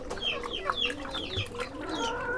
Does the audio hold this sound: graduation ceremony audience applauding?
no